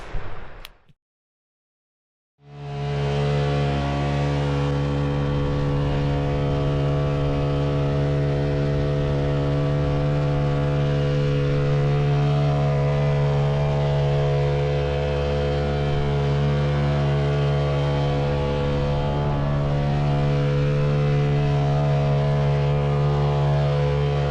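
A loud, steady motorboat engine drones continuously up close on water in remote Alaska after a brief moment of quiet, its deep hum unchanging throughout.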